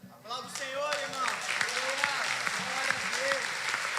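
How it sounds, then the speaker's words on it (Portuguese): A church congregation applauding during a worship service, steady dense clapping running throughout beneath a singing or speaking voice. "Aplauda o Senhor, irmão."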